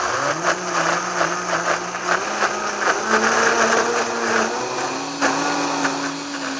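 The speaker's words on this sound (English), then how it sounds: "we're just gonna give this a good blend" A kitchen blender whirs steadily while blending fresh cranberry relish, its motor pitch stepping up and down a few times as the contents churn, loud and close, with no talk over it.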